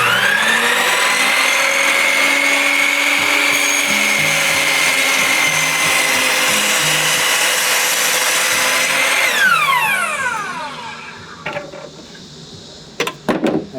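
A miter saw cuts a board for a bluebird house: a loud, steady high whine of the spinning blade through the wood, then the motor winds down, followed by a few sharp clicks and knocks.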